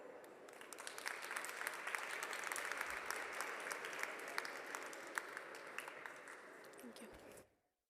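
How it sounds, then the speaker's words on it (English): An audience at a conference panel on feminist alternatives and gender-transformative public services applauds, a dense steady clapping that holds for about seven seconds before stopping abruptly, fairly distant and without speech. "Another round of applause for the fantastic insights that they've shared"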